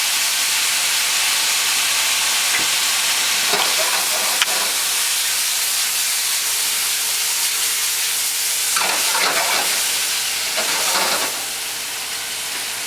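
Loud, continuous sizzling of beef stir-frying in a hot pan, with bursts of stirring and hissing steam throughout.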